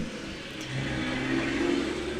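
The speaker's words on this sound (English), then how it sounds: "Sorry for all the loud trucks" Loud trucks pass close by outdoors, a steady engine roar that swells slightly toward the end, with no talking.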